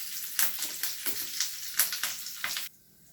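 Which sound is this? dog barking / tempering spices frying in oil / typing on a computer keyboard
tempering spices frying in oil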